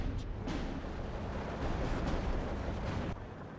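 Dense, continuous rumble of mortar fire and explosions from Steel Division 2, a steady wash of booming blasts filling the whole stretch with no talk over it.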